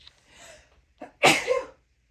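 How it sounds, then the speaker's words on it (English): A single close sneeze with a short inhaled build-up, a brief catch, then a sharp loud burst that fades quickly into silence. "Oh, I'm going to sneeze."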